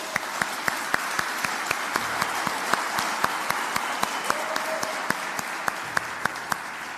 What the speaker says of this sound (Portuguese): Dá uma salva de palmas para eles.